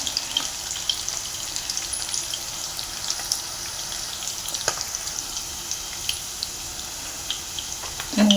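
Cashews and paneer sizzle in a pan, a steady, moderately loud hiss with occasional small pops. A brief clatter at the very end, and no voices.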